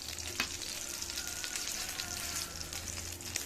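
Grass pea leaf fritters fry in hot oil, a dense, steady crackling sizzle up close with occasional soft pops, and no voices.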